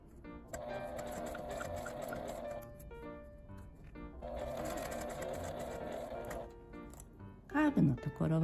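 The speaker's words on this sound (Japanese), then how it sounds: "カーブのところはゆっくり待ち針を外しながら縫っていきます。" A domestic sewing machine stitches a small zipper pouch in two sustained whirring runs with a short pause between, steady mechanical buzz up close, followed by a brief voice at the end.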